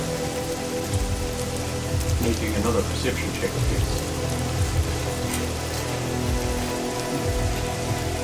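Steady rain patters on a surface through a dark night, a constant close hiss, while a voice speaks briefly over it.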